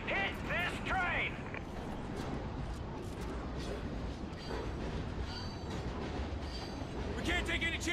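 Train in the Call of Duty: Ghosts video game, rumbling rail cars with metallic creaks and high wheel squeals, loud and close throughout.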